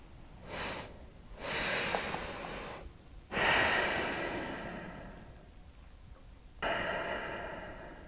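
Wim Hof–style deep breathing: a series of loud, forceful inhales and exhales in long rhythmic waves, close to the mic, with brief pauses between breaths and no talking.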